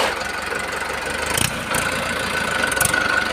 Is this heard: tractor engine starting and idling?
yes